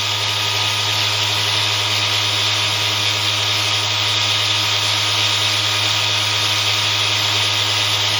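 A ZFM six-pole, two-coil parallel motor spinning at steady speed, a continuous even electric whine and hum with no break, close and alone.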